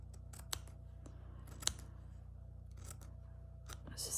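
Scissors snip through fabric for a slow-stitched Christmas table runner, a handful of short, crisp cuts spaced irregularly over a low steady hum, close and fairly quiet.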